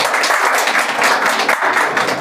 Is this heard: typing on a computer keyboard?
no